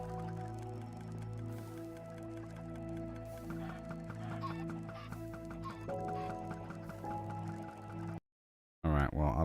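Chickens clucking in the video game Minecraft, faint and continuous under steady background game music and ambient sound, ending in a brief silence and a sudden loud burst.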